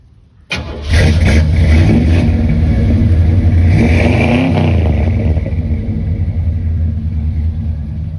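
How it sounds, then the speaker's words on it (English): A 1977 Pontiac Can Am's 6.6-liter V8 engine cranks and catches, then holds a deep, loud rumbling idle with a brief swell of revving before settling slightly. "Just give me a short rev, not very loud or anything."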